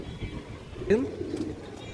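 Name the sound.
pigeon cooing, white female pigeon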